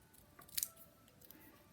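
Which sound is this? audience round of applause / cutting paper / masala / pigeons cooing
cutting paper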